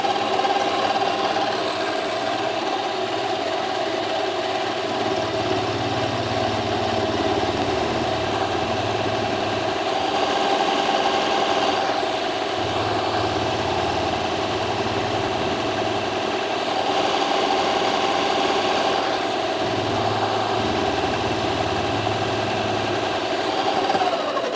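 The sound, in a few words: metal cutting machine taking a cut with cutting tool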